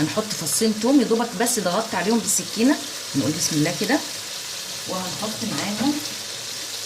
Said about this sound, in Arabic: سامعين بقى كده صوت الشكشكه دي؟ يعني خلاص الميه اللي فيها نشفت خالص، وقفت على شويه السمنه اللي فيها.